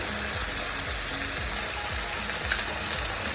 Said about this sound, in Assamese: এইখিনি মই 2 মিনিটৰ কাৰণে ফ্ৰাই কৰি ল'ম।